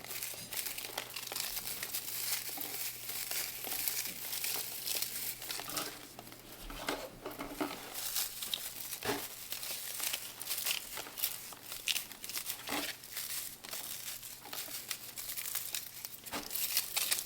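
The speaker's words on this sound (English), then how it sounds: "we can get these seeds right off of these flowers" Dried leek seed flower heads are stripped by hand, giving a continuous, dense crackling and crinkling rustle of brittle husks, close and steady throughout with no talking.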